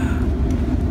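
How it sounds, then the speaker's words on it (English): Steady low rumble and rattle heard from inside a moving passenger train, a continuous rolling drone with faint clatter and no talk. "Hi, we're on the train."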